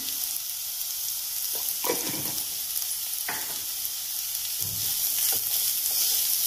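Vegetables for veg manchow soup sauté in a hot pan with a steady sizzle, broken by several scraping strokes of a spatula as they are stirred, close and fairly loud.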